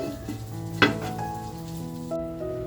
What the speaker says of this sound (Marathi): मातीच्या भांड्यात असल्यामुळे बघा ते छान उकळते